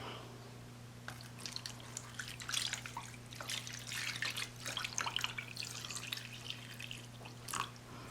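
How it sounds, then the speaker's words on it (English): Water pours and splashes unevenly into a container, with a gurgling, dripping patter against a low steady hum. "then we're gonna dump the water in there."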